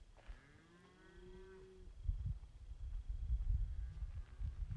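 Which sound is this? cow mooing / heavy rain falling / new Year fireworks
cow mooing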